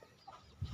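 A young Jejalon chicken, a Blackbull descendant, gives a short burst of low clucking near the end, after a quieter stretch with faint background noise.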